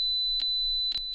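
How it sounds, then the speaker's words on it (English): Alarm beeps from a C-more Micro HMI touch panel on a bottling plant PLC simulation: a steady high electronic tone broken by short gaps roughly every half second, clear and alone with no voices. "We hear the beeps going"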